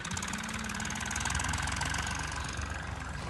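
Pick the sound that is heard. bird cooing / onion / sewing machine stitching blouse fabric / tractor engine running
tractor engine running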